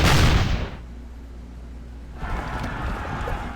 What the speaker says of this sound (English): Yes, some nice gunfire.